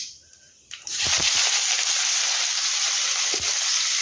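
Onion dropped into hot oil with fish and black cumin seeds for a Bengali-style freshwater amudi fish in mustard paste, bursting into a loud, steady sizzle right after a couple of soft clinks.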